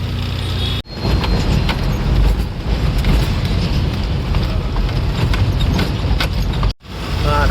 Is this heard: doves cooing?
no